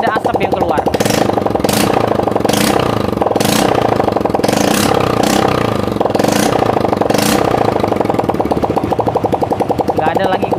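A motorcycle engine, just repaired for exhaust smoke, runs at a steady idle with a rapid, rattling, jackhammer-like pulse throughout, close and loud, with periodic bursts of hiss or revving.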